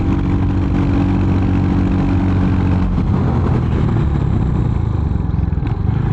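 A Royal Enfield Hunter 350 motorcycle engine accelerates in third gear, a loud, close, continuous throbbing drone rising in pitch with steady wind noise.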